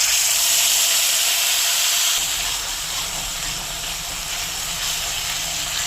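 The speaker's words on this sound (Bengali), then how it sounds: "এইবার বেটে রাখা মশলাটা দিয়ে দেব।" A ground paste of green chilli, poppy seed and peanut dropped into hot oil over tempered spices, a steady loud hiss that eases slightly after a couple of seconds and continues evenly, with no voices.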